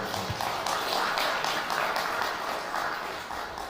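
A congregation applauds at a Buddhist Sunday service, a steady wash of claps filling the hall for a few seconds, moderately loud and without speech.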